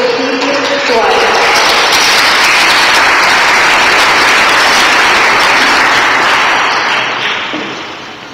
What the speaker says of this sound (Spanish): Recibamos con un fuerte aplauso al arquitecto Virgilio Suárez